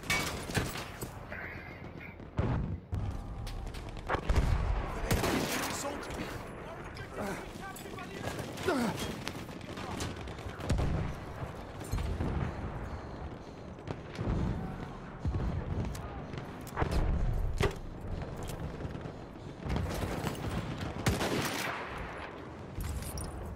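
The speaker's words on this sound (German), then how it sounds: "Maschinengewehr, eindeutig feindlich!" Rapid gunfire bursts from a machine gun in the video game Battlefield 1, loud, repeated and mixed with other battle noise, with a voice talking over it.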